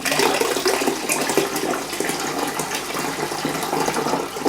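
Water gushes and pours steadily as a frog paludarium tank is drained to lower its level, a continuous close, loud rushing flow with no voices.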